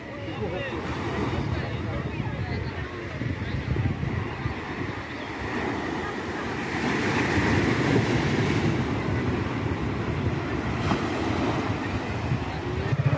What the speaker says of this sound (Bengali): আর কি সুন্দর একটা হাওয়া আর সেই সমুদ্রের গর্জন